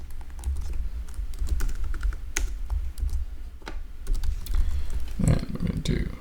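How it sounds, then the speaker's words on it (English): Rapid, uneven key clicks from a computer keyboard, close and clear, with a brief busier flurry of keystrokes near the end. "Let's type that in."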